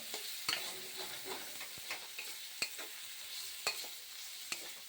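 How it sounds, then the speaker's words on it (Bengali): Chopped tomato fries in a pan for a fish curry, giving a quiet, steady sizzle broken by sharp scrapes and clicks as it is stirred, with no talking. "এখন এখানে টমেটো কুচি দিয়ে দেবো একটুখানি"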